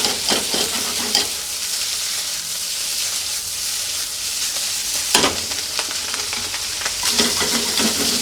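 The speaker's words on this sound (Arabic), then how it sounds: "شوية فطر بدنا نقلبهم شوي. الأصوات يا سلام." Mushrooms sizzle steadily in a frying pan, a close, even hiss with bursts of scraping as they are stirred around about three times.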